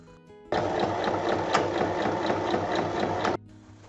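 A domestic sewing machine stitching all the way around fabric, running at a fast even rhythmic whirr for about three seconds, close and loud, starting and stopping abruptly.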